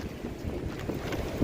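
Wind buffeting at Niagara Falls, a continuous blustery rumble on the microphone with a louder gust at the end, no talking.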